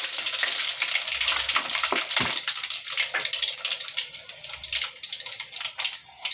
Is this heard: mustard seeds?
yes